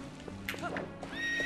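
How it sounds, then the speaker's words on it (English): A horse in the video game Twilight Princess gives a short whinny that rises and wavers, set against a steady game hum with faint hoofbeat-like taps nearby. "Come here, horsey."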